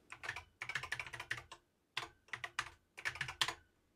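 Keys clatter on a BBC Micro computer keyboard as a short program is typed in, quick close bursts of keystrokes in three runs separated by brief pauses, with no voices.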